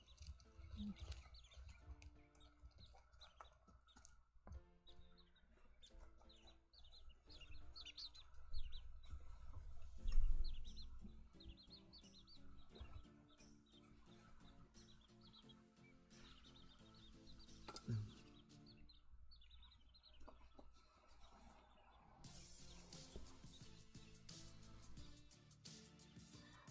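Button quails in an indoor enclosure chirp and peep softly in scattered bursts, faint against a low steady background, with occasional rustling movement.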